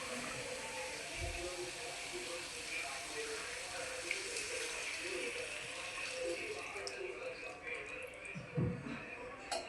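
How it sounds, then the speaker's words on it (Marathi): Water pouring steadily into a pan of cooking Bombay duck and potato curry, a soft continuous splashing rush, with faint muffled sounds in the background. "1 ग्लास पाणी टाकायचे त्याच्यात."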